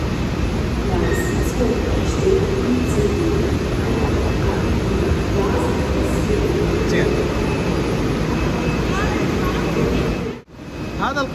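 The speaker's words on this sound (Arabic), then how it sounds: "هو القطار السريع اللي يسموه القطار السريع." A high-speed ICE train at a German railway station gives a loud, steady rumble and roar that continues throughout, with a brief dip near the end and someone talking over it.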